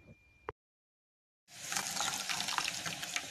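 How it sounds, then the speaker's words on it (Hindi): Kahwa poured into boiling milk for Kashmiri chai: after a brief knock and a second of silence, a steady close splashing, bubbling pour runs to the end, fairly loud and alone. "थोड़ा थोड़ा कहवा डालते जाएंगे और साथ साथ स्पून की हेल्प से मिक्स करेंगे"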